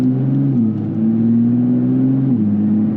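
A 2025 Nissan Z Nismo rolling slowly with a steady mid-pitched engine hum and drone heard from the cabin, easing into a lower tone after a couple of gentle shifts, continuous and fairly loud.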